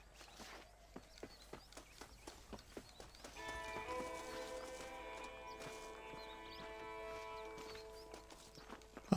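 Horse hooves clip-clopping in the video game Red Dead Redemption, a steady walking rhythm of distinct hoof strikes, fairly quiet, joined midway by a sustained musical drone from the game.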